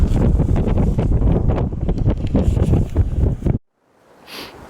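Strong wind roars and buffets the microphone in heavy gusts for several seconds, then cuts out abruptly into near silence with a faint swell of wind afterward.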